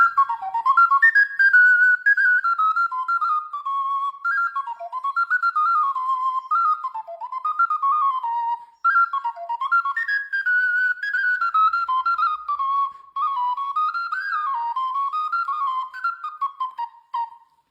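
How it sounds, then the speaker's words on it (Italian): A handmade Sicilian friscalettu flute plays a lively, trilling melody in clear, bright phrases with brief pauses between them, alone and close with no voices. "non resta che ascoltare il suono di questo flauto dedicato a Bella Sicilia"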